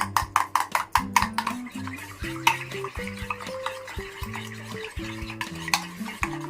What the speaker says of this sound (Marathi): चांगलं अंड फेटून घ्यायचं, सगळं मिश्रण त्याला व्यवस्थित लागलं पाहिजे